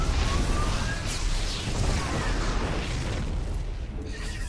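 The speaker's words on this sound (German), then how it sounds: "Feuer frei für eure Yamato-Kanonen. Ein paar Treffer werden alles in Schutt und Asche legen." Yamato cannon blasts in StarCraft 2 battle, loud booming explosions layered over dense game noise and whining effects, continuous and busy throughout.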